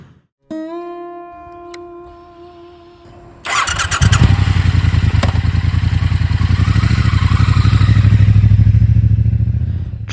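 A Triumph Bonneville T120 motorcycle starts with a clatter, idles, then its engine roars loud and steady as it rides off, the pulsing exhaust building through the gears, close and alone with no talk.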